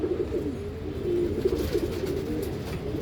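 A pigeon brought from Andhra coos in a low, rolling, continuous murmur, close by and steady, over faint background noise with no speech.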